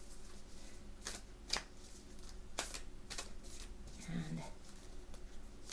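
Oracle cards from a Lightworkers deck are shuffled in quick, soft, riffling bursts close by, with a low voice speaking briefly.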